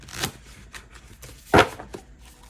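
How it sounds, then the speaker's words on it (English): Tarot cards being shuffled during a card reading, giving a few soft riffles and one sharper snap, close and quiet with no talk. "Okay, just shuffling this card a little more."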